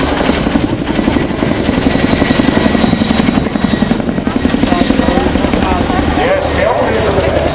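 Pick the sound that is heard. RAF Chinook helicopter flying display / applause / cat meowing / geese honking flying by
RAF Chinook helicopter flying display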